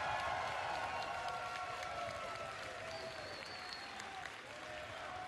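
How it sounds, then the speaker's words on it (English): An audience at a Smash Bros. Invitational 2018 award ceremony claps in a sustained, loud round of applause, with some crowd noise and faint talk underneath. "Please give a big round of applause for MK Leo."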